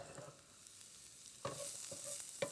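Mushrooms sizzle in hot oil with shallots in a pan, a bright steady frying hiss with a few soft stirring clicks, close and on its own.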